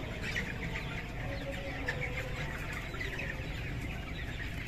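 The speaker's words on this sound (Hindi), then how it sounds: "ये मुर्गी 24 घंटे में 170 केजी फीड खा रही है।" Broiler chickens cluck and chatter inside a crowded poultry shed holding a few thousand birds, a continuous moderate din of overlapping clucks with no voices.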